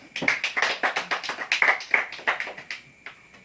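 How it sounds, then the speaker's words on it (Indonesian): A classroom of students claps in applause, with a brisk run of roughly a dozen close, sharp hand claps over about three seconds that trail off at the end. "Aplaus untuk kalian semua."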